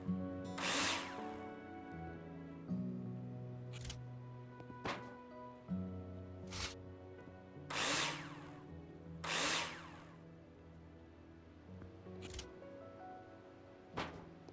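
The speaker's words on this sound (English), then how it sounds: "Now place them in the holograms and screw them in with a drill." A power drill in the Builder Simulator video game drives screws into metal wall profiles: repeated short whirring bursts, roughly a dozen, spaced a second or two apart over a low steady hum, with no talking.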